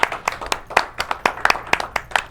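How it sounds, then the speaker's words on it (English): Audience clapping for a comedian on a live comedy show, a sparse, rhythmic run of sharp individual claps from a small crowd, close and fairly loud with no voices. "Let's a round of applause for Hank Castro."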